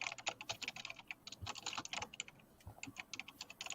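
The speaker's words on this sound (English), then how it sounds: "I know I have machine gun typing, but right now my nails are a little long" Rapid, rattling typing on a computer keyboard by someone with long nails, a dense burst of quick clicks and clacks close by with brief pauses, no talking.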